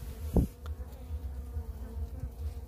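A honey bee colony buzzing at an open hive, a steady low drone of many wings close by, with one louder bee passing near the start.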